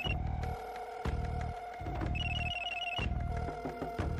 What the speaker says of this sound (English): Then she heard a ringing on the other line.